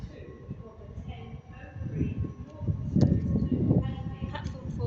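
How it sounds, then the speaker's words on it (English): A Northern class 323 electric train pulls into a platform at Manchester Piccadilly, a low rumbling and clattering that swells as it nears, with brief squeals and people talking on the platform. "the next train to arrive is going to be a terminating Northern service"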